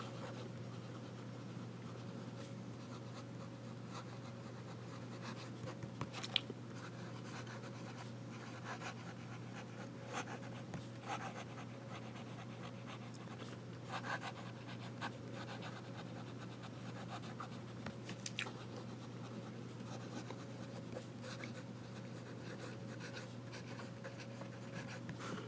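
Platinum 3776 fountain pen nib scratching faintly across paper while writing in reverse, a continuous soft rasp with small irregular strokes over a steady low background hum.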